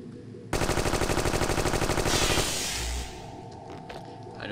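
Enemy gunfire in the Indiana Jones and the Infernal Machine video game: a loud, rapid burst of automatic shots lasting about two seconds, then a heavier blast and a fading rumble, with no talk.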